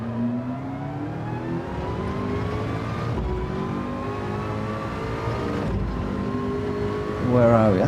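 A race car engine in the Gran Turismo racing game accelerates steadily, pitch climbing through gear shifts with two abrupt changes, while someone talks over it.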